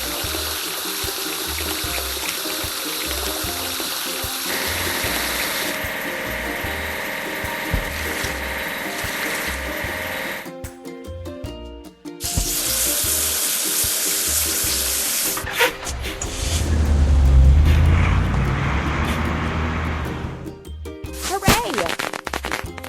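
Cartoonish water spray from a children's truck video game, a steady hissing gush washing a drop side truck amid game music, playful effects and occasional narration.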